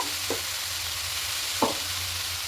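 Bottle gourd and spinach being stirred in a pan over steady sizzling, with two distinct spoon scrapes, no talk.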